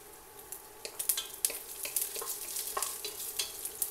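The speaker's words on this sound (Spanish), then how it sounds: "El tocino yo lo voy a dorar un poquito nada más. Aquí voy a ir echando 2 chiles serranos." Bacon and serrano chiles sizzle steadily in a pan, a soft continuous crackle broken by scraping stirs and small spits, close and fairly quiet.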